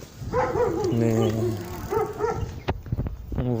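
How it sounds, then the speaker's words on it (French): Several dogs bark and yip in short, loud bursts close by, with a brief whimpering note, mixed with people's voices. "donc pas mal de chiens, comme on l'a dit."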